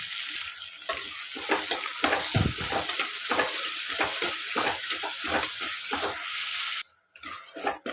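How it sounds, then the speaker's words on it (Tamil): Four tomatoes and small onions sautéing with salt for a gravy, loud steady sizzling broken by repeated spatula scrapes and stirs, ending abruptly near the close, with no speech. "ஒரு 4 தக்காளி இது இதோடு சேர்த்து வதக்கலாம்"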